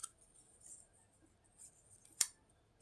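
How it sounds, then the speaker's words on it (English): The scissors on a multi-tool are opened, giving a single crisp metallic snap against near silence, preceded by faint small handling clicks. "Scissors"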